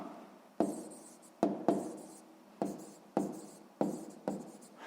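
A pen writes numbers by hand on paper, each stroke a short scratchy burst, about six of them in an uneven rhythm, close and clear with no voices.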